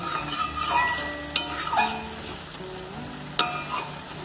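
Red spinach cooks with prawns in its own released water in a pan, giving a soft steady simmer and sizzle with two sharp clinks of a spoon against the pan as it is stirred.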